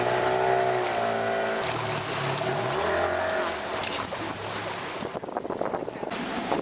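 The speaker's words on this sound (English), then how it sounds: "We find ourselves on a boat, heading to Blasket Island" A boat motors across the Atlantic toward Great Blasket Island, a steady engine drone under rushing wind and splashing water, with gusts buffeting the microphone.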